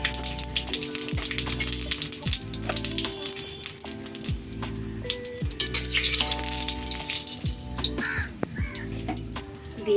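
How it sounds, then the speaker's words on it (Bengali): Bay leaf, cardamom, cinnamon, cloves and cumin sizzling in hot oil, a steady crackling fry throughout while repeating tonal background music plays over it. "তেলটা গরম হয়ে গেছে, দিয়ে দেব তেজপাতা, এলাচ, দারচিনি, লবঙ্গ, দিয়ে দেব সাদা জিরে"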